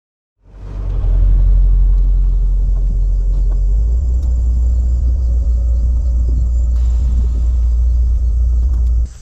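A 1976 Cadillac Eldorado engine starts and settles into a loud, deep rumbling idle that holds steady, close by, before stopping abruptly at the end.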